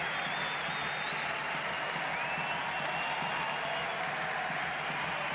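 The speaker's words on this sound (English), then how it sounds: "he deserves some applause and chanting here" Steady crowd applause fills a Roland-Garros tennis stadium during a 2023 men's first-round match, dense and continuous throughout without a break, with some faint whistles or chanting mixed in.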